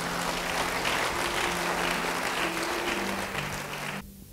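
A congregation applauds during a church service with sustained, steady clapping and a soft tonal hum beneath, then cuts off abruptly near the end.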